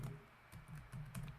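Quiet clicks of a computer keyboard as Java code is typed, a few quick keystrokes in small bursts with short gaps, close and soft, no talking.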